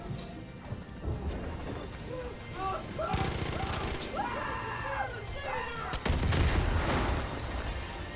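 Explosions and a fusillade of gunfire in the shooter game Far Cry 5, loud bursts and crashing blasts in quick succession, with a louder explosion near the end.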